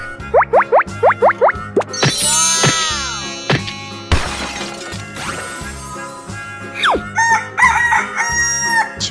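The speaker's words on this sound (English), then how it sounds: "Chicken." A cartoonish chicken crowing in a transformation game, heard as several short rising calls at the start and then repeated clucks and crows over a dense bed of music and game effects.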